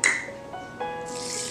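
Water poured into rice in a mixing bowl for washing, a close, faint trickle with light drips and a thin ringing tone, steady over a short moment.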